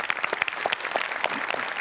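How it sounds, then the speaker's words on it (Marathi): Brisk applause from a comedy show's studio audience, a steady patter of many hands clapping at moderate distance for a couple of seconds with no talk over it. "जोरदार टाळ्या"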